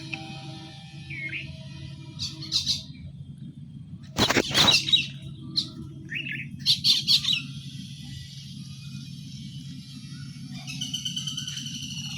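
Birds chirping and squawking in scattered bursts over a steady low background rumble, with one sharp loud squawk near the middle and fainter calls around it, and no talking.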